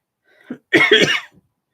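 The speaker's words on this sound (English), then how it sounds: "Excuse the coughing, that's just my asthma doing its usual." A couple of short, harsh coughs, close and loud, after a faint breathy lead-in, with silence after.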